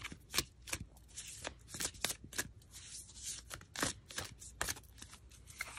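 Starseed oracle cards are shuffled by hand up close, a run of quick riffling flutters and soft slaps repeating in bursts with brief pauses between, quiet and with no speech.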